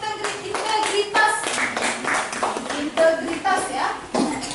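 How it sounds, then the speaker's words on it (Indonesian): Children in a classroom clapping for a student group, rhythmic bursts of hand claps with young voices calling out over them. "tepuk tangan untuk kelompok integritas"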